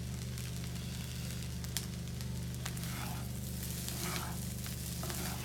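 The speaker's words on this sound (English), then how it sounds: "Just do a little bit of stirring." Egg fried rice with pak choi sizzles steadily in a pan while it gets a light stir, with scattered scraping clicks over the constant frying hiss, close and moderately quiet.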